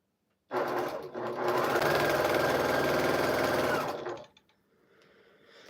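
A sewing machine stitches a quilt panel in one loud, close, continuous mechanical run of rapid needle chatter lasting about four seconds, then stops abruptly into quiet.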